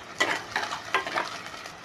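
Onion and garlic sizzle softly in a pan while a spoon stirs them in a few brief scrapes, close by and fairly quiet.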